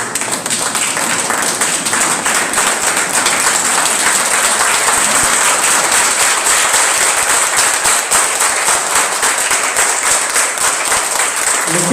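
An audience at a student award ceremony applauds with dense, sustained clapping that holds at an even, loud level for about twelve seconds, with no pauses.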